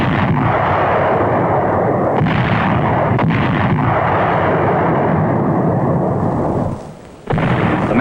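A heavy naval bombardment of Roi and Namur in the Marshall Islands by battleships in World War II. Loud, continuous rumbling and booming rolls on, with several sharper blasts in it, then briefly dips before surging back.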